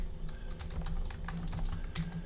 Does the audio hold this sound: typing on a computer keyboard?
yes